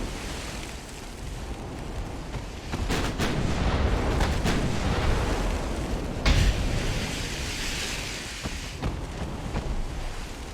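Secondary naval guns in the Ultimate Admiral Dreadnoughts warship game fire repeatedly, with sharp booming reports over a rumbling, windy sea-battle roar that swells and fades across the stretch.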